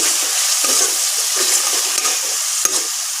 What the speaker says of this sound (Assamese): ৰেড চিলি জলকীয়া পাউডাৰ অলপ দিছোঁ আৰু এইখিনি ভালদৰে লৰাই দিম